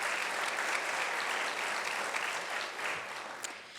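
Sustained applause from an audience at a city's State of the City event, dense steady clapping that holds loud throughout and tapers slightly near the end.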